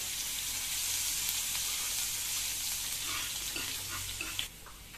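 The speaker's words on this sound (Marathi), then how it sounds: "त्याच्यानंतर आपण जो हा लसूण आणि मीठ जो ठेचलेला होता तो देखील याच्यामध्ये टाकत आहोत. चांगल्या प्रकारे परतून घ्या." Crushed garlic and salt sizzle steadily in hot oil in a pan for bitter gourd fry, a continuous close frying hiss with faint stirring scrapes, easing slightly near the end.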